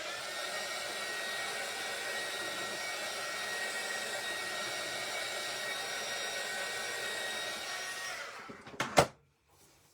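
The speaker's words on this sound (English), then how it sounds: "let's hit this with a dryer real quick" A hair dryer blows with a steady whirring hiss for about eight seconds over a stencilled sign, then switches off with a couple of clicks.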